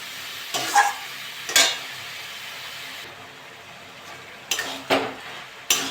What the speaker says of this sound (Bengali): এটা নেড়ে চেড়ে নেবো ভালো করে মিশিয়ে নেবো